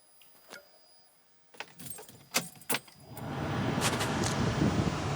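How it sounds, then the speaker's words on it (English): Toyota Supra air conditioning blowing cold air, a steady loud whoosh of airflow that rises and settles after a few clicks and jangles of keys and controls. "It's summer, so I'm going to turn on the cold air."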